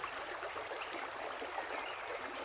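A flowing mountain stream makes a continuous, even rush of water. The hiss is soft and steady and heard alone, with no voices.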